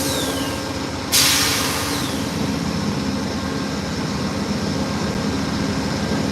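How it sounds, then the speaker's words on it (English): GE FDL diesel locomotive engines on an Amtrak California Zephyr at a station stop in Ottumwa, Iowa idle with a steady low rumble, interrupted early by a sharp hiss of released air. "the great old sound of these GE FDL diesel engines"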